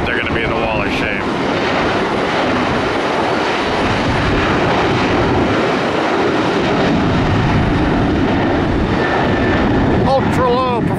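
A Spirit Boeing 767 takes off from Tampa with a very low-thrust setting: a loud, continuous, close engine roar that fills the whole stretch. Voices come through briefly near the start and end.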